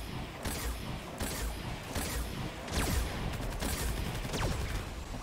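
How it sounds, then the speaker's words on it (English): Sniper rifle shots crack in a video game, about six sharp reports spaced roughly a second apart over a constant busy background of game noise, with no voices. "God, all I hear is that sniper. Why is it so loud?"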